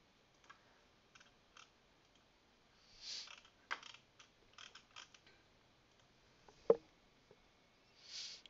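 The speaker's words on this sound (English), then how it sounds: "you would hold down the control button and then press your plus or minus" Scattered computer keyboard key presses from someone working in graphics software, mostly single soft clicks with a sharper tap near the end, quiet and alone with no talk.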